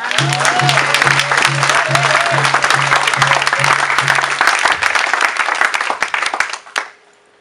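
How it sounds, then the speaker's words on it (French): A church congregation's loud, dense applause fills a worship hall, holding strong for about six seconds before tapering off quickly into near silence, with a faint rhythmic thud beneath the clapping early on. "applaudissez le Seigneur"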